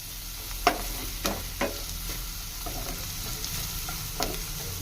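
Onions and chopped green chilies fry in a pan for hotel-style prawn fry, with a steady close sizzle and several distinct scrapes and clinks of a spoon stirring against the metal, no voices.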